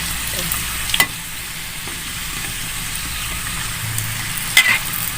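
Hot oil sizzles and crackles steadily as cireng, tapioca dough stuffed with spicy shredded chicken, deep-fries, with a couple of brief clinks from a utensil stirring in the pan.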